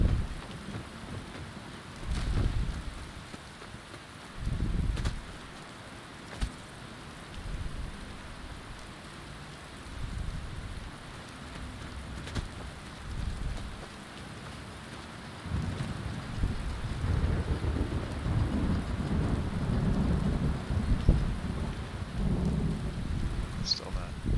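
Steady rain falls through a stormy day, with low rumbles of thunder rolling in at intervals and the downpour growing heavier and denser toward the end.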